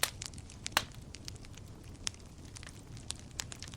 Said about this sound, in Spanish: Mientras el fuego crepita suave